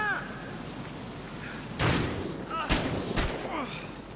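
Three sharp, booming gunshots ring out in Battlefield Hardline, spaced about a second apart, over a steady rain-like hiss.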